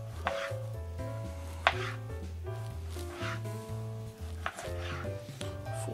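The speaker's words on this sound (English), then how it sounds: "we're gonna wanna cut 4 slices of the cucumber out" A knife slices a cucumber into four pieces on a cutting board, the cuts landing as a steady run of crisp, close chops under light background music.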